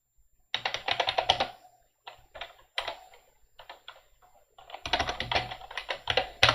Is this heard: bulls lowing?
no